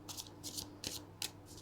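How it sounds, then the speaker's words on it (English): Thin tarot cards are shuffled by hand in four short, crisp riffling bursts, close and fairly quiet with brief gaps between them. "These cards are so thin. They're so difficult to shuffle"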